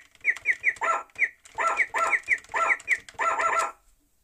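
Rapid chirpy bird calls alternate with short yappy dog-like barks from an electronic musical instrument's sound effects, a busy back-and-forth of cartoonish animal effects with no talking.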